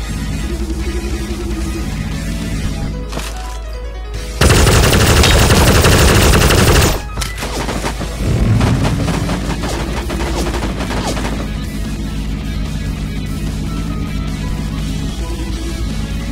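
Gunfire in the mobile battle royale Sausage Man, with bursts of rapid shots and one loud, dense volley under game music and sound effects throughout.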